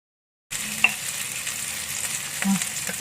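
Ginger, bay leaves, lime leaves, star anise and cloves are stirred in a pan for soto Betawi, giving a steady low sizzle with a few spoon scrapes and knocks against the pan, close and without talk.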